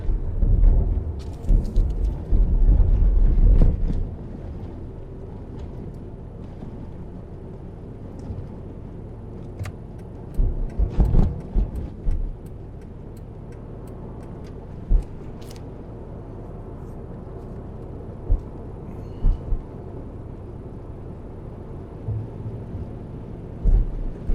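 A bus rolls past on a slushy, plowed road during a snowstorm, a low rumbling swell with wet tire hiss that rises and fades, followed by quieter traffic noise and a few faint bumps.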